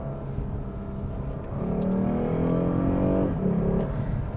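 Engine of a fourth-generation Lexus GS sport sedan revving in manual mode, a steady drone that climbs in pitch and swells louder from about 1.5 seconds, peaking near 3 seconds before dipping briefly with a gear change, with no talking.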